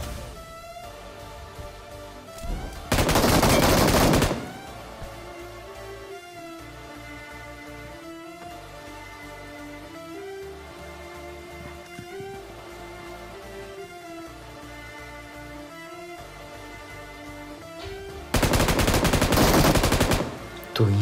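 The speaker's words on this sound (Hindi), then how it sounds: "पीछे की साइड से भी भाई फायर का साउंड आता है।" Automatic gunfire from the video game PUBG, with a loud sustained burst near the start and another near the end, separated by quieter game sounds and a musical tone pattern.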